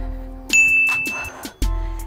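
A single bright bell ding rings out during a home fitness workout, a clear sustained tone lasting under a second before a few soft knocks and clinks.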